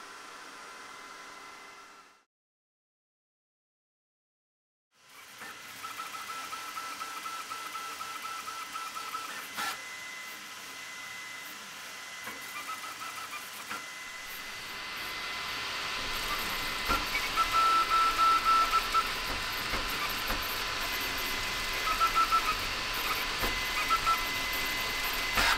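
A Creality Ender 5 3D printer prints with an Infinity Flow S1 filament changer, giving a steady whirring hum with faint motor tones that grows louder and busier partway through after a brief silence near the start.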